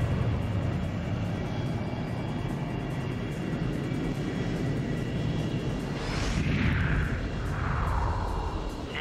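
Military jet aircraft in flight, a loud continuous roar with a rising whoosh as it sweeps past near the end, steady rumble throughout with no talk.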